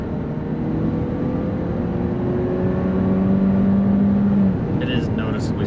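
A car with a smaller, less powerful engine than the V6 version, about 68 horsepower down, accelerating hard under full throttle. The engine drone climbs steadily in pitch and stays loud and continuous for several seconds.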